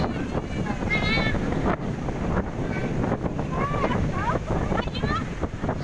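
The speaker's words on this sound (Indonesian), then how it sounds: "Anginnya kenceng banget ya teman-teman" Strong wind at Widarapayung beach in Cilacap buffets the microphone in a constant loud roar, with the rumble of surf beneath and a voice talking faintly in the gusts.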